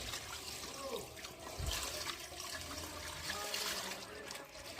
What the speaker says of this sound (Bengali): জল দিয়ে দিতে